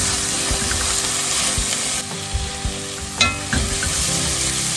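Garlic, onion and celery sauté in a pan for a pot pie filling, a steady close crackling sizzle with a few stirring scrapes and no talking.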